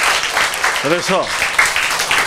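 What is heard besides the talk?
audience applause at a lecture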